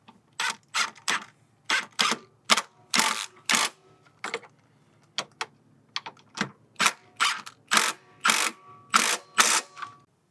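A ratchet works 13mm nuts onto new sway bar links on a BMW E46 front suspension, sounding as a series of quick, crisp clicking bursts in short irregular runs with brief pauses between.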